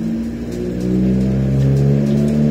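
An Iveco Daily 35-8 van engine with a custom exhaust droning heavily as it revs in third gear, low and loud, rising slightly in pitch and volume partway through.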